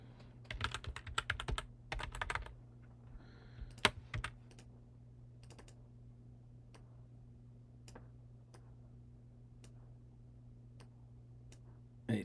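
Computer keyboard typing in quiet bursts of rapid key clicks over the first few seconds, then sparse isolated keystrokes spaced apart, all set against a steady low hum.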